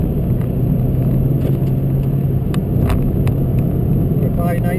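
Ford KA+ 2018 car accelerating in fourth gear while overtaking, a steady engine drone with road and wind noise throughout, someone talking over it.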